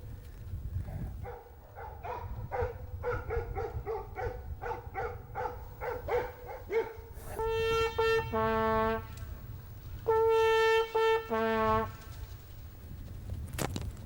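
A Polish hound (ogar polski) gives tongue during hunting training in an enclosure. A run of quick, evenly spaced barks gives way to longer drawn-out bays. The sound is steady and fairly close, with no talking.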